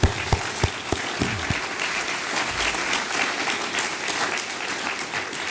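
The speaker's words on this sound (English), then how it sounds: "Let's give them a round of applause as well" A dinner audience at a Calloway County, Kentucky Republican Party Lincoln-Reagan event breaks into applause, a few sharp nearby claps opening into steady sustained clapping from the room.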